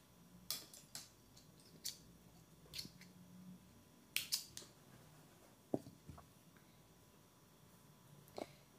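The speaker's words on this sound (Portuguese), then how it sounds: "Já pode cortar aqui." Small scissors snip crochet yarn on an amigurumi doll, a series of quiet sharp clicks spaced irregularly, close and faint against near silence.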